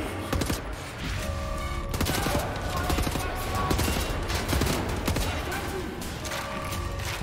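Rapid gunfire from the video game Wolfenstein: The New Order rattles in dense, continuous bursts, with distinct sharp shots mixed into the stream of fire and a voice speaking over it.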